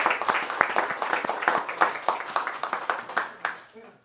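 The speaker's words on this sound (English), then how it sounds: "let's have a round of applause for those three fine individuals" A small audience at a talk claps together in a quick, uneven patter of distinct hand claps, building briefly and then thinning out over a few seconds.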